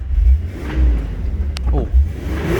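1994 Toyota 4Runner 4x4 engine revving while stuck in gear and refusing to shift, loud rumbling surges rising and falling close by, with a person speaking over it.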